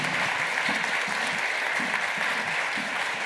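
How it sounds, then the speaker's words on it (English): Full, continuous audience applause for panelists at a European conference on data centres, loud and even from start to finish, with faint voices murmuring underneath. "How about a round of applause for them?"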